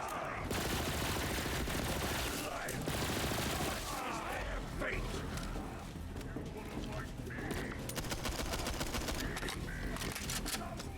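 Gunfire in Borderlands 3, rapid bursts and volleys of shots with mechanical clatter, dense and loud throughout, mixed with game effects while a player talks over it.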